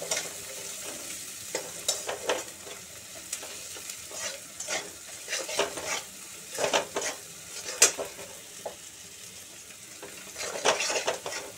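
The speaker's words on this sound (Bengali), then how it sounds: "এবার পেঁয়াজটা সিম করে করে ভাজবো" Onions frying slowly on low heat in a pan, a soft, quiet sizzle with frequent scraping and light clinks of the spoon as they are stirred, close by and without talk.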